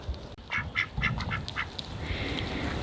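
Several ducks quack in quick bursts on a muddy homestead, a run of five or six close calls early on and then fading into steady outdoor background noise.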